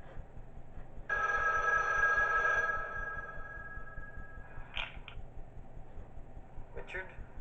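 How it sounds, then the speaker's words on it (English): A telephone rings in the horror game Five Nights at Wario's, McDonald's version, Night 6: one sustained electronic trill lasts about two seconds at moderate loudness, followed by a couple of brief sharp noises and faint background hum. "Oh, we get a phone call?"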